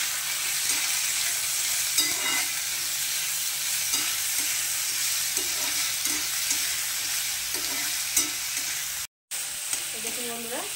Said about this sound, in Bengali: এখন এই পর্যায়ে আমি দিয়ে দিচ্ছি বিনস আর গাজরটা। তো এটাকে এখন একটু ভেজে নেব।